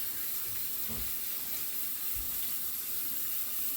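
A steady broadband rush of tap water pouring into a sink, continuous and even throughout with no voices.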